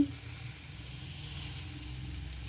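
Curry leaves sizzling in hot oil for a chicken fry, a continuous, moderately loud hiss that holds steady from start to finish with no voices.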